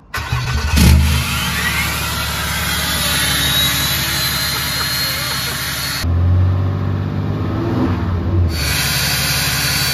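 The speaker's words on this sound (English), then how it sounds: "Just listen to how fucking ridiculous this truck sounds now." Cummins diesel truck modified to sound like a jet, its engine roaring loudly and steadily with a high whine over the rumble, surging to a harder rev about two-thirds through.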